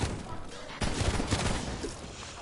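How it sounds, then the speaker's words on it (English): Rapid shotgun blasts fired at zombies in a first-person shooter zombies mode, dense overlapping booms close and loud across the whole stretch. "Just keep blasting and harassing zombies with our shotguns."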